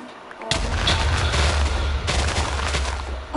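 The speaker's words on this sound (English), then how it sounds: "This is a real TNT explosion." A sudden TNT explosion in Minecraft on a superflat world, a loud booming blast that erupts and rumbles on, with a second burst of blasts following close behind.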